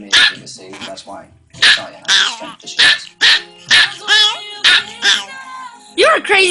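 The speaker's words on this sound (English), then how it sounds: "You're a crazy dog." A small dog barks excitedly in rapid, repeated yips and barks at close range, with a person talking between and over the barks.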